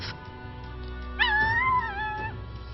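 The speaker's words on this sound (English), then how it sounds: "I hear a puppy." A puppy whimpers in the video game Metaphor: ReFantazio, a few high, wavering whines rising and falling over a quiet musical backdrop.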